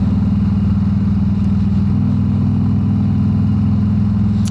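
A Harley-Davidson Road Glide motorcycle with about 1,000 miles on it gives a deep, steady, loud engine rumble close by, a throbbing low drone that holds fairly constant as it pulls ahead.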